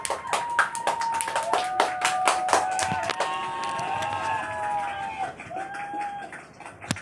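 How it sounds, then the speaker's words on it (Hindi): Studio audience at a comedy quiz-show spoof claps loudly and steadily, with sharp hand-clap transients, while tonal whistles and sound effects play over it. "जोरदार तालियां बजाइए गटर जी के लिए।"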